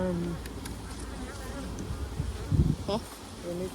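Honey bees buzzing around hive frames of drawn comb during a beekeeping inspection, a steady close hum with a few louder passes near the middle, and faint talk in the background.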